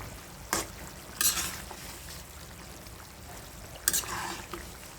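Ground cumin being stirred into a snakehead fish curry with beans and potatoes: a soft steady simmer and sizzle in a pan, broken by a few brief scraping stirs of a spoon.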